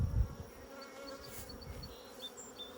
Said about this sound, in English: We got some packed bees in here